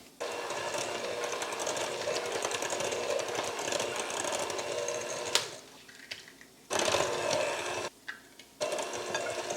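Electric mixer beating eggs into pound cake batter, a steady close whirring drone interrupted by a few short pauses and restarts near the end.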